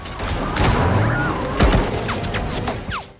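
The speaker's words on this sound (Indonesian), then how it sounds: "Samidi CS memblokir jalan mereka dan menembak ke arah bus secara brutal" Gunmen blocking a road fire at a bus in a film, a burst of sharp cracks and impacts that comes in bunched clusters over dramatic background sound.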